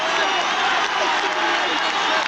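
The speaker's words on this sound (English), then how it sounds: "Crowd trying to get the Yankees stirred up." A big baseball crowd at Yankee Stadium during the 1980 ALCS, Royals at Yankees, roars in a steady, dense wash of cheering and clapping that stays loud and unbroken throughout.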